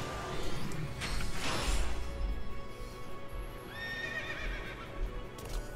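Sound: horse neighing in video game Final Fantasy XIII

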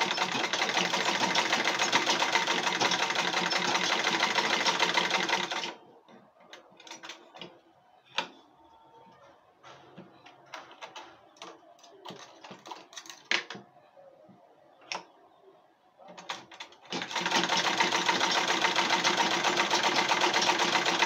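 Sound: sewing machine stitching an Ankara fabric school bag

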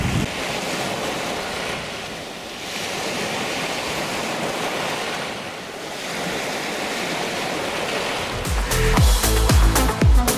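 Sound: waves on Lake Issyk-Kul

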